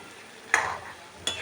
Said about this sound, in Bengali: এবারে এইগুলো সবগুলো মিলিয়ে একটু লাল লাল করে ভেজে নেব